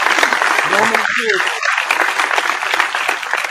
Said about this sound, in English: Little round of applause for the light.